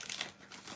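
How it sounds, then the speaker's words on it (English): A fairly heavy item is pushed into a padded envelope, giving brief crinkling and crumpling of packaging, moderately loud and close, with no talk. "maybe it won't fit in the padded envelope"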